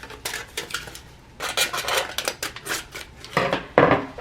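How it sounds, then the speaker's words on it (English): Scissors snip into crumpled aluminum foil being shaped into a giraffe sculpture, a series of close crinkly cuts and rustles in uneven bursts, with no talking. "I'm gonna take my scissors a little bit and cut in."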